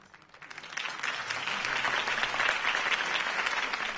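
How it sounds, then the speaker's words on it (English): Steady applause from a large crowd at a campaign speech in a film swells up within the first second and holds at a dense, sustained roar of clapping. "could have heard that applause"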